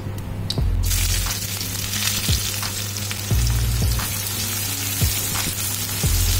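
Two small-chopped onions sizzle in hot oil with dried red chillies, a bay leaf and cumin, loud and steady, while a spoon scrapes the pan with repeated clanks.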